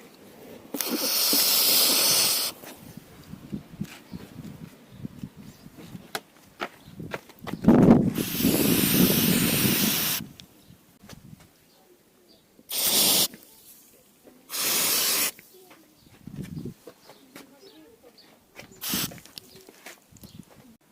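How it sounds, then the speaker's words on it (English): Lubricant sprayed in several short, loud bursts onto a car door lock and hinge during a service, separated by quieter pauses with faint mechanical handling sounds. "Let's spray the lock and the hinge."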